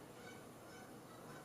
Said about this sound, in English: The migrating birds are off.